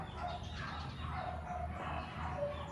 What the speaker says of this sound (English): I don't know where the dogs are from. They bark so loud every day.